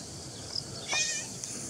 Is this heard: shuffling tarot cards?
no